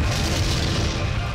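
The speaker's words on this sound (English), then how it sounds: "How convenient that all of these explosions just so happen to land directly in front of me and not on me" Explosions going off just ahead of a car in a driving video game, a dense, loud, continuous rumbling boom with no talk over it.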